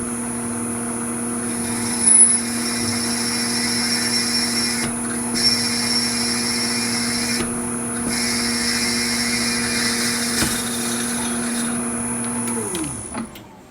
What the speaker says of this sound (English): let's drill this out and then get tapping